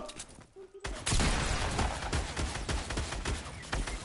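A short Fortnite firefight: after a brief quieter moment, a burst of loud shots breaks out and keeps going as rapid, repeated cracks at a fairly close, even level.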